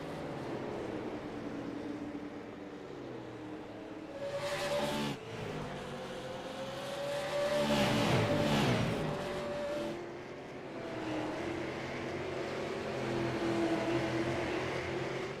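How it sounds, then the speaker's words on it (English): Race cars lapping Oswego Speedway during a late-laps feature race, engines swelling and fading as cars pass, with a loud pass near the middle over steady track noise and no speech. "It's going to be 2 laps to go as Chris Smith gets around Justin Coleman for the 2nd spot"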